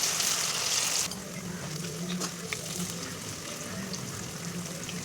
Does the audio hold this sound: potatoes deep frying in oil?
yes